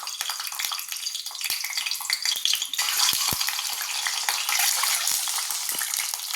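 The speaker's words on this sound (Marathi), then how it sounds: "फोडणीसाठी तेल तापवून घेतलं आहे. त्यात जराशी अंडी फ्राय करून घेऊ." Eggs fry in hot tempering oil, crackling and spitting loudly and steadily, with a sharper burst of popping partway through and no voices over it.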